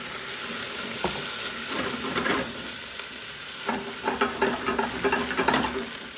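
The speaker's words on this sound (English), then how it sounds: "we're going to deglaze the onions with a half cup of white wine" Onions sizzle steadily in a hot pan as white wine is poured in to deglaze, with scraping and stirring clatter and a few louder bursts of hiss near the end.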